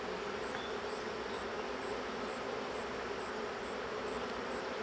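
Angry bees buzz steadily around a honeybee hive, a dense, continuous drone from many insects close by with no talking.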